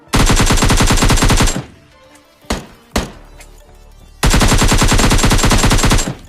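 Sustained automatic gunfire in a battle royale video game during a chase to knock down an enemy: two long, loud dense bursts at the start and end, with a few isolated single shots in the quieter gap between.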